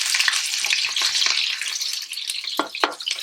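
A medium onion, finely sliced, fries in hot oil for spicy rice, giving a close, steady crackling sizzle with a few sharper pops and stirring sounds, with no talking.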